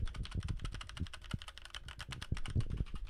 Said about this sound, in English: this is a very loud mechanical keyboard with clicky switches